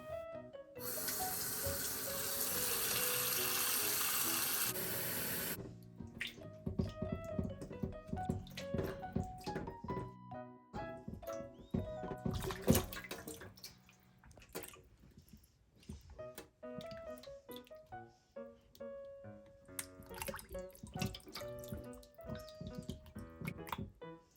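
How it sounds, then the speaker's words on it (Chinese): Hot water from a faucet rinses surface grease and impurities off a salted duck in a sink. A steady rush of running water is followed by splashing, dripping and clattering as the duck is handled. "再用热水把表面的浮油和杂质清洗干净。"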